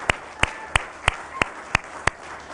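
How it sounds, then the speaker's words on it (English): Slow, evenly spaced hand claps, about seven sharp strokes in a steady rhythm, ring out at a NASDAQ closing bell ceremony. They sound close and fairly loud, more like a few people clapping than a full, dense round of applause. "I think that also deserves a round of applause"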